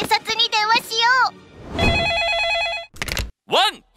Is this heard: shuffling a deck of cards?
no